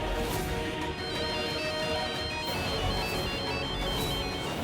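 A phone ringtone plays loud and close in a repeating electronic melody, continuous from start to end with no voices over it.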